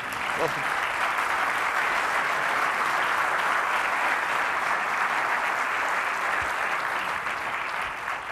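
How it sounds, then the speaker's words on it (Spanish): A dense, sustained round of clapping from a large crowd at a public lecture honoring Colombian colleagues, loud and unbroken across the whole stretch without fading. "Por favor, démenle un aplauso a mis colegas"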